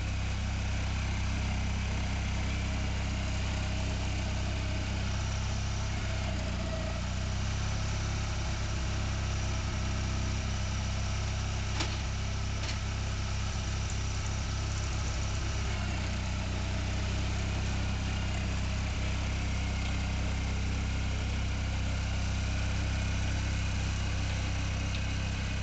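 A tractor plowing snow rumbles steadily at a low, constant drone, close and unbroken for the whole stretch.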